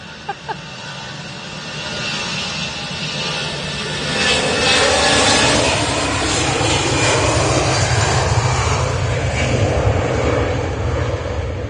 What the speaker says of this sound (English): What plane is landing? Cathay Pacific.